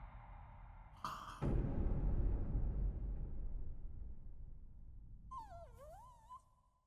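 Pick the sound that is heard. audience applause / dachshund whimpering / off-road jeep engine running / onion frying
dachshund whimpering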